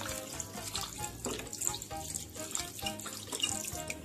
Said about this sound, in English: Keep on adding cold water.